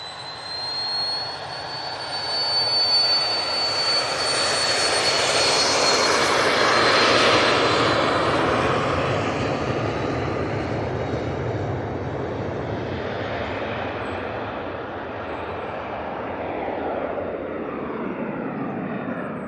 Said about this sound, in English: that Cessna making an absolute racket on departure